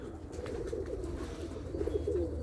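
Pigeons in a loft coo faintly and steadily over a low, constant background hum, their soft calls rising slightly toward the end, with no one talking.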